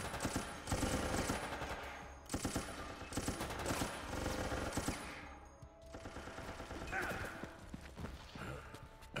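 Rapid, continuous gunfire from the video game Resident Evil: Operation Raccoon City, loud bursts stacked over dense game noise that hardly lets up, with a short dip midway.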